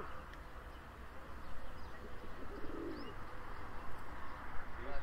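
Tumbler pigeons cooing softly in a loft, with low, gentle, repeated coos under a steady background hum and faint distant voices.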